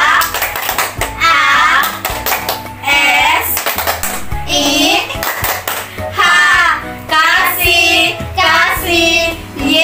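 Rhythmic hand claps keep time with a children's church song, sharp claps between and under lively sung and chanted voices, loud and close.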